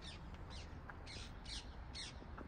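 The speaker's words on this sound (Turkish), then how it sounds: "Yeşil papağan geçiyor dostlar. Bakın sesi geliyordur." Harsh squawks from a passing green parrot burst out several times in short rasping calls, fairly loud over a steady outdoor background.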